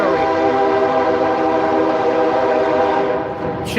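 A loud train passes close overhead, rumbling with a sustained horn-like drone and heavy rolling noise, continuous throughout and fading slightly at the end.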